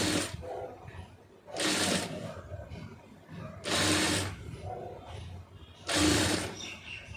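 A sewing machine stitches piping on a lined blouse in three short runs of rapid mechanical clatter, each lasting under a second, separated by quieter pauses with faint handling noise.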